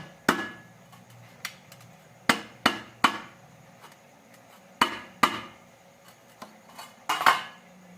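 A boiled fruit being cut open with a knife, a series of sharp, close chopping knocks on a hard surface in irregular pairs and singles, with quiet gaps between strikes.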